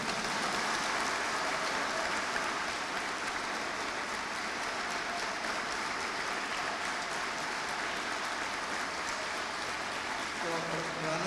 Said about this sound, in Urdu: پوری قلندر ٹیم کے لیے بھرپور تالیاں آپ کی طرف